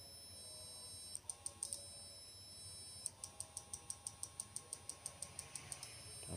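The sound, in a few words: two relays clicking in flip-flop circuit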